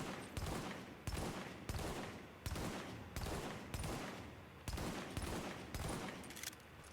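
M1A rifle fire in The Division, a run of heavy, evenly spaced single shots, about eleven sharp loud reports roughly two-thirds of a second apart, each with a short decaying tail.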